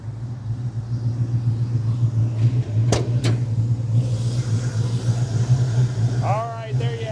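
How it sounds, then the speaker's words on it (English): A 1971 Pontiac Firebird Esprit restomod with a Pontiac 400 engine and multi-port fuel injection idles with a steady, deep rumble. A couple of sharp clicks cut through midway, and a voice briefly speaks near the end. "Pontiac 400 engine, multi-port fuel injection."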